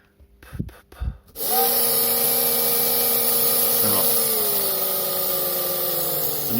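A Viper V Spec HO slot car motor being run in at low voltage, starting after a couple of brief taps and settling into a steady, close, continuous high-pitched whine with a gentle drift in pitch, no voices.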